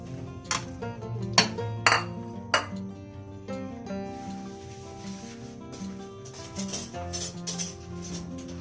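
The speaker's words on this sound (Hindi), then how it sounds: "सबसे पहले मैं पैन में मटन डालूंगी।" One kilogram of mutton goes into a cooking pan, giving a few sharp metallic clinks and knocks early on, then quieter scraping and settling sounds close by.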